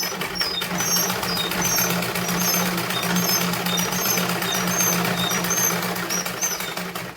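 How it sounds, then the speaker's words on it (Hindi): A sewing machine runs steadily while stitching two waistband casings of a salwar together, a continuous mid-pitched mechanical whir with a fast rhythmic clatter lasting throughout, close and moderately loud. "दोनों नेफे को मिलाते हुए हमें इधर सिलाई चलानी है"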